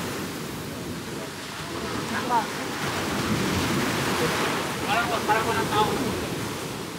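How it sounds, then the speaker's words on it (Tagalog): Sea waves rolling onto the beach at Sablayan, Occidental Mindoro: a continuous rushing wash of surf with some wind. A person briefly speaks over it. "Ayun ang alon."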